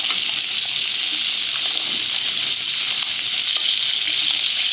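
Koi fish frying in a pan, turned to brown lightly on both sides, giving a loud, even hiss of hot oil that carries on without a break.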